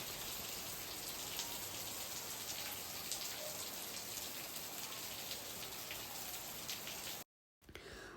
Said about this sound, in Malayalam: നല്ല മഴയാണ് കേട്ടോ പുറത്ത്.